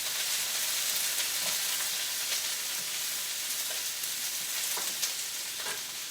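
A vegetable stir fry sizzles steadily in a very hot pan on a stove, a continuous close crackling hiss with small pops scattered throughout and no voices.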